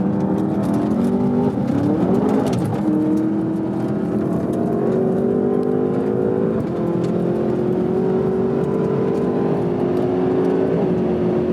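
A car engine roars steadily as it accelerates hard, pitch climbing through the gears, loud and continuous with a brief shift partway.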